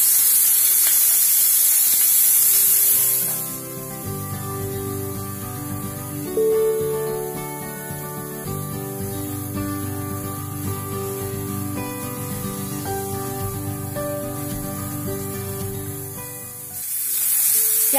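Sliced onions frying in oil in a pan while being browned for veg seekh kabab, a steady close sizzle and hiss that holds throughout with a brief louder spray at the start and end.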